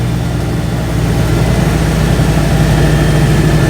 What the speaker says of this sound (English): There's the downshift.